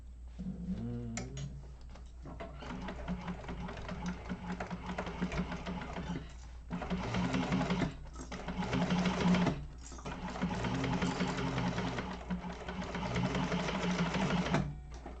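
A home sewing machine stitches a bound bowler bag in bursts, steady rapid mechanical whirring with short stops between runs, close and moderately loud, with no talking over it.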